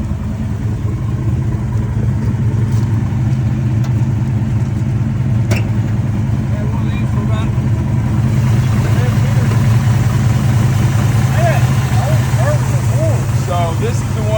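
A 1971 GTX engine idles close by with a loud, steady, throaty rumble that continues unbroken throughout, while voices talk faintly nearby.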